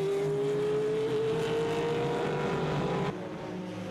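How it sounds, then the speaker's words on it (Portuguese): A Peugeot 207 race car pulls out of the pit box at the Ayrton Senna circuit in Londrina during an endurance race, its engine a loud, steady drone with a slowly rising tone that cuts off abruptly, leaving lower ambient noise. "Vai sair nesse momento do box o Peugeot 207, José Corva e Marcos Ramos."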